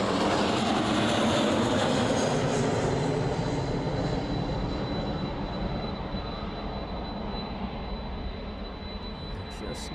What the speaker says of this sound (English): First that Jet 2 service off to Mahon.